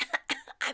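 Three sharp coughs in quick succession from someone who has choked on a swallow of wine, close and fairly loud, with no other sound.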